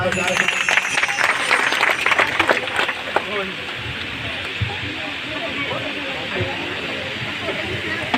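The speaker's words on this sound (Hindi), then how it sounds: "आइए हम ताली बजाएं।" Guests applaud at a Christian church wedding ceremony, a dense wash of clapping that is strongest at first and then thins to a softer, steady patter.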